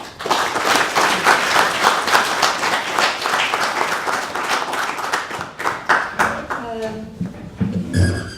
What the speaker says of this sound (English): give a big round of applause to Liz